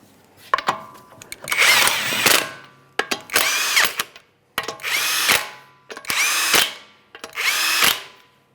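A power tool drives 21mm wheel lug nuts home on a Nissan Maxima, with five separate loud rattling bursts, each lasting about a second, spaced by short pauses as the nuts bottom out in turn.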